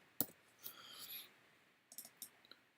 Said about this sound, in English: To create a text box, just go ahead and click and drag